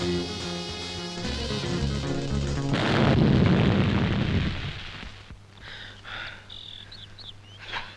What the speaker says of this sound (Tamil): இப்ப வெடிச்சிடும், இப்ப வெடிச்சிடும்.